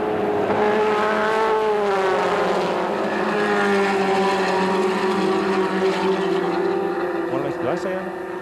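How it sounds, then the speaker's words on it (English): Formula Ford race cars at the 1980 national championship howl past with loud, rising and falling engine notes that overlap steadily, under a race commentator's voice. "And moving into fifth is car number 10, Chip Ganassi."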